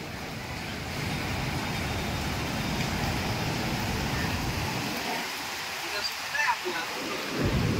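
The Godavari river in flood near Nashik after two to three days of continuous rain, a steady broadband roar of rushing water that thins in the low end toward the end.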